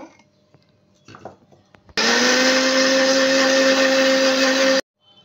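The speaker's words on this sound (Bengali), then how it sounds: "এখন আমি আবারও তেল দিয়ে দিব, আবারও ব্লেন্ড করে নেব।" A blender whirs loudly and steadily for about three seconds, mixing oil into mayonnaise sauce for chicken shawarma, after brief clattering handling sounds, then stops abruptly.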